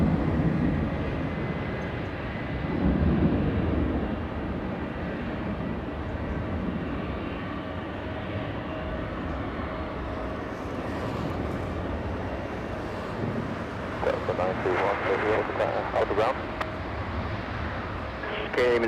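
Delta flight 966, an airliner at LAX airport departing for Nashville, heard as a steady, fairly faint jet rumble across the whole stretch, with slightly brighter engine noise near the end.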